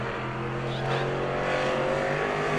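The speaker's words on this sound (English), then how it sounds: "Always good-looking race cars for Mr. Huntoon." A sportsman race car engine drones steadily at a distance during qualifying at New Smyrna, a sustained mechanical roar with faint commentary voices underneath.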